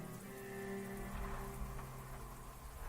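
Steady rain patters on surfaces as soft background ambience, with a continuous wash of drops and a faint low rumble, no voices.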